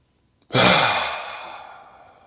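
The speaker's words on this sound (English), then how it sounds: "Begin with a deep clearing breath in." A deep clearing breath exhaled in one long, close breathy rush that starts suddenly and fades slowly over about two seconds, with no talking.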